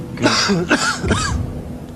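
A few sharp coughs or throat-clearing bursts close up, three quick bursts in a row over a quiet background.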